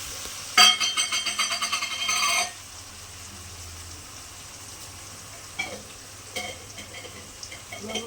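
A spatula stirs mashed small seeded banana paste frying in a pan, a loud rhythmic scraping burst up front, then a quieter sizzle with a few later scrapes.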